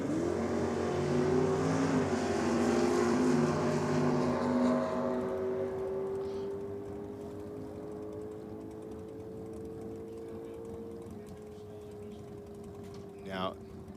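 The Bushrat Camaro makes a solo drag-racing pass at an NSW championship meeting, its loud, droning engine roaring at first, then steadily fading into the distance until only a faint hum remains.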